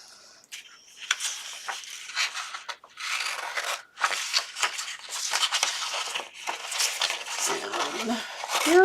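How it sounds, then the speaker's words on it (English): Scissors snipping and scraping through paper scraps at close range, a run of crisp rustling cuts and pauses, with a voice talking over parts of it. "Grab our scissors."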